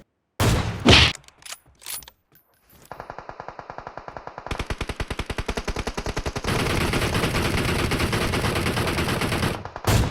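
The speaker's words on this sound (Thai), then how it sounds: "มุมนี้ก็ได้ยินแต่เสียงปืนนะครับ" Rapid automatic gunfire in the mobile battle royale game PUBG Mobile, with a few sharp opening shots and then long, sustained bursts of loud, evenly spaced shots, steady and close throughout.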